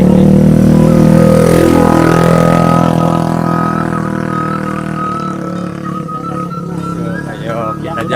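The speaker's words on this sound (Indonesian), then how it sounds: "Terus ini kita lihat ada yang bawa motor nih." A motorcycle engine drones past on a road through a coffee plantation on a hillside, loud at first and then fading steadily as it moves away, under continuous talking.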